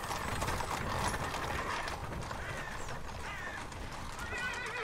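Horse neighing with steady clip-clop of hooves, heard close and continuous over a busy outdoor background in a dubbed comedy film scene about trading horses and mules, with no talk.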